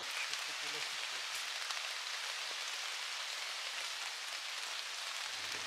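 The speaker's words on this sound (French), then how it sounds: "La pluie s'invite, s'intensifie, nous pousse à poser le camp plutôt que prévu." Rain falls steadily on a mountain campsite along a hiking trail, a soft, even hiss of drops with faint patter, fairly quiet and unbroken throughout.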